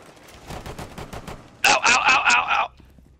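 Pistol gunfire in Rainbow Six Siege, with a soft run of distant shots followed by a loud close burst of about five rapid shots, then quiet.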